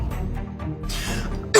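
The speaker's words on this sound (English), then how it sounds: "You're keeping the whole house up with your disgusting cough." A sick woman coughs and clears her throat harshly at close range, a couple of rough bursts ending in a louder sharp cough.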